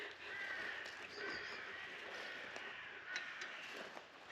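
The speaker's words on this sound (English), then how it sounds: "Oh, shut up, crows. They get very noisy." Crows cawing near a rural Portuguese house under renovation, a steady chorus of harsh calls over outdoor ambience, fairly faint and continuous with a few sharper calls standing out.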